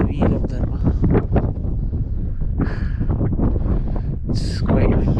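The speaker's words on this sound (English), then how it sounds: "It's quite windy." Strong gusty wind at Shanti Stupa in Leh buffets the microphone in heavy low roars, with brief rustling bursts and a voice faintly underneath.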